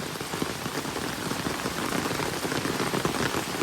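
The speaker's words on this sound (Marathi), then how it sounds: "तुम्हाला आवाज येत असेल पावसाचा छत्रीतनं किती जोरात पाऊस" Heavy rain drums steadily and loudly on an umbrella beside a swollen river, a dense unbroken patter that fills the whole stretch with no voices.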